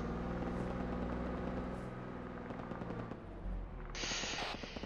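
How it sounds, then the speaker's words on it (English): A heavy machine gun fires from a distance, a faint, rapid rhythmic rattle mostly buried under a steady, rumbling background noise. "it sounds like some sort of heavy machine gun"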